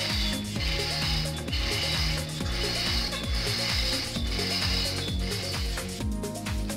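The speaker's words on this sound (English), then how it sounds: "now we manage to hoist the motor until it sits" A hoist ratchets as an elevator gearless motor is lifted, a rhythmic series of loud clicking and grinding ratchet strokes repeating about twice a second, close and mechanical.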